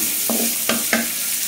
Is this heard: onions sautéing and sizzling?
yes